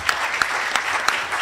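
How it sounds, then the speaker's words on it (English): Audience applause for panelists at the close of a journalism panel event, steady dense clapping with a few sharper claps standing out, heard alone in a brief burst. "Give them a round of applause"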